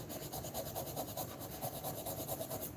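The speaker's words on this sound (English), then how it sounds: "Look at me, I'm sanding." Hand sanding of a wooden mallet in a home woodworking shop, with a steady rhythmic rasping stroke repeating back and forth at close range, fairly quiet and alone with no talking.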